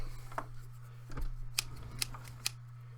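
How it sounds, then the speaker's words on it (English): A pair of scissors gives several short, crisp metallic snips at irregular intervals, close and fairly quiet, over a steady low electrical hum, with no voices. "Got some scissors right here."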